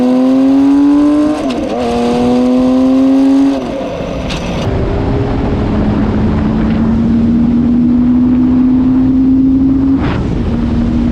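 Honda CBX 1000 six-cylinder motorcycle engine, loud and close, revving high and then dropping back to a smooth, steady drone that slowly rises in pitch, with no talking.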